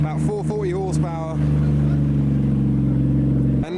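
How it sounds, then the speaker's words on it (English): A car with anti-lag and about 440 horsepower revs hard at a car meet, settling into a loud, steady engine drone with a rough, buzzing edge; a brief burst of voice-like sound comes first. "he's revving. This one's got anti-lag"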